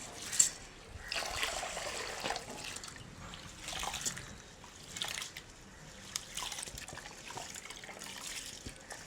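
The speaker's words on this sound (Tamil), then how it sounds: "இப்போ வந்து நாங்கள் தண்ணியை ஊற்றி ஒரு 4-5 தண்ணியில் கழுவி எடுப்போம்." Water trickles and splashes in short bursts as raw red rice is swished and rinsed in a bowl, close and fairly quiet, with no one speaking.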